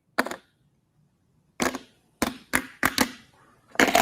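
Sharp metallic clinks of a gold coin dropped onto a hard tabletop, one strike, a pause, then a quick cluster of ringing taps and bounces.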